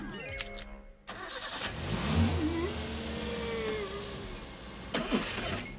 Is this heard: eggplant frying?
no